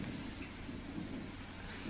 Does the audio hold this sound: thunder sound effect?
yes